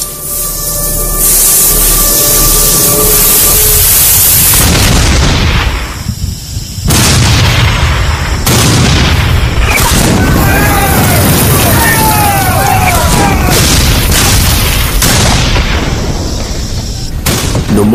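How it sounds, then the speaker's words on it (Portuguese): Artillery and musket fire at a Gettysburg battle reenactment: loud, booming cannon blasts and crackling volleys of gunfire in repeated bursts, with a steady rumbling roar between shots. "Fogo de artilharia e de mosquetes trovejava e explodia por toda parte"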